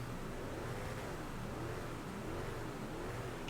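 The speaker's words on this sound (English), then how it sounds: "It's got a nice engine sound too when you hear it." The Albany Franken Stange in GTA V runs with a steady, dense engine drone that holds a constant, moderately loud level throughout, without clear revs.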